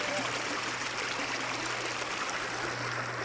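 Water pours steadily at a dam, a continuous rushing, splashing flow that stays loud and even throughout with no pauses.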